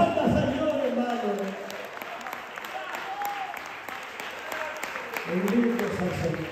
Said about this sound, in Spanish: Aplauda al Señor, hermano.